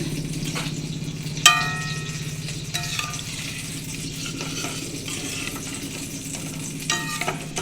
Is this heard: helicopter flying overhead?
no